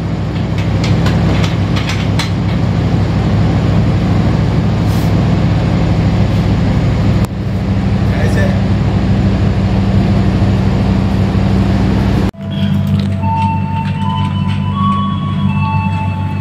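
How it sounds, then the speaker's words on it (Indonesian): A KAI Kertajaya passenger train at Jatibarang station, pulling away with a steady low engine rumble and rolling noise throughout, a sharp break near the end followed by tonal squealing and hum. "Ini tanda kereta api mau berjalan menuju stasiun berikut."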